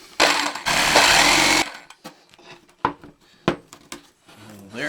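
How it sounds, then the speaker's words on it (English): Saber saw cutting a strip of wood to make a handhold in a carry plate: a loud, steady buzzing cut for over a second, then scattered knocks and clatters of the workpiece being handled. "We're using our saber saw, and it's going to get a little noisy."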